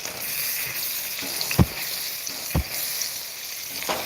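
Beef sears in an oiled pan with a steady, close sizzle and crackle, punctuated by a few sharp clanks and taps of a utensil against the pan; no one speaks.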